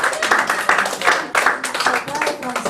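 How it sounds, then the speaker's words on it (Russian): Audience applause at a vocal competition semifinal, a dense wash of clapping that swells and dips in waves over a couple of seconds, with voices mixed in underneath. "Давайте поаплодируем"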